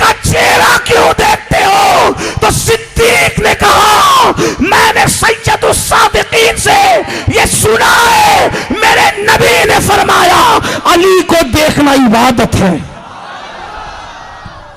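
A large crowd at a religious sermon gathering chants slogans in loud, rhythmic, repeated shouts that echo close and forceful, then drop off abruptly near the end.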